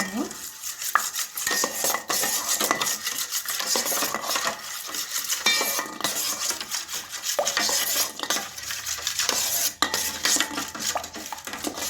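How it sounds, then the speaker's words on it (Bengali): A spoon stirs oil, salt and yeast together in a bowl, with continuous rapid scraping and clinking against the sides, close and busy throughout, no talking. "সাদা তেল দিয়ে দিলাম চামচ মতো আমি ইস্ট দিয়ে দিলাম ভালোভাবে মিশিয়ে"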